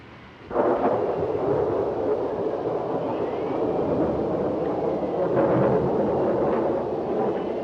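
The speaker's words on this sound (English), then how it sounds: "this is a storm and a half" Heavy thunder rolls through a storm in a long, loud, continuous rumble lasting several seconds, with a swelling surge near the end, heard alone without speech.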